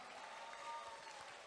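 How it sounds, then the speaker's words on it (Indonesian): An audience at an entrepreneurship training session claps, a faint, brief patter of applause with a low murmur underneath. "Tepuk tangan lagi yang lebih meriah"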